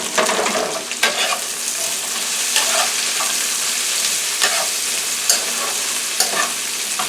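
Crushed garlic frying and being stirred in a pan, a continuous close sizzle punctuated by regular scraping clacks of the utensil, no voices.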